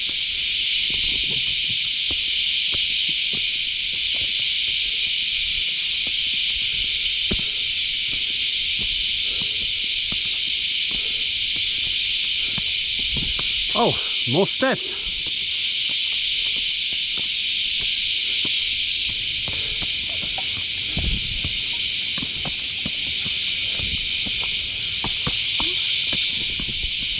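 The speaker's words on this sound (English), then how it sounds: "Listen to those cicadas." Loud, unbroken cicada drone fills a wet, muddy Australian forest on a rainy hike, steady throughout, with footsteps, a brief voice and a few closer rustles and knocks beneath it.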